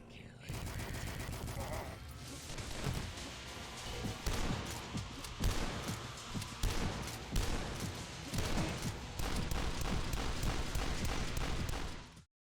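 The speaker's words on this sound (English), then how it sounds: "Then there's a super shotgun. It's a beast of a gun, it sounds incredible" A super shotgun blasting in the retro shooter Dusk, heavy booming shots repeating rapidly over a dense, loud mix of game music and combat noise, with a voice talking over it.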